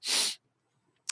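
A single short, sharp, hissing sneeze bursts out close by and stops abruptly. A brief quiet follows, then another sharp noise begins just at the end.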